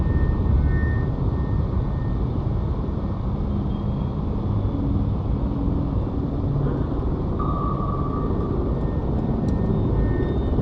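Aircraft flying in the naval combat game Cold Waters, a steady, loud broadband engine roar and rumble that holds evenly throughout, with no voices.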